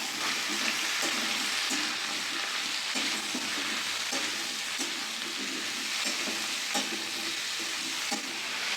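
Pumpkin, ridge gourd and pointed gourd fry in a pan with a loud, steady sizzle. A spoon stirs them in a repeated scraping rhythm close by, and no voices are heard.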